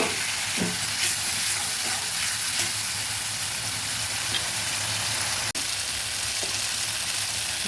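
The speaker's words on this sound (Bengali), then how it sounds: "মশলাগুলো ভেজে নেব আর একটু সামান্য জল দিচ্ছি" Spices fry in a pan for a fish and potato curry, a soft continuous sizzle with faint stirring scrapes and one sharp clink partway through as a little water goes in.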